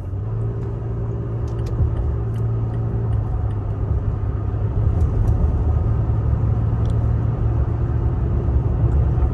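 Toyota Tacoma truck with an overland torque tune driving, steady low engine rumble and road noise from inside the cab, a faint hum at first, continuous and fairly loud with no talk.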